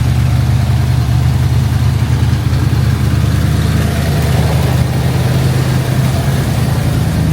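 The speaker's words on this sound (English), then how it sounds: "She sounds healthy, even on the high rev" A classic Mustang engine runs steadily at a high idle, loud and close, with an even low rumble and no changes in revs throughout.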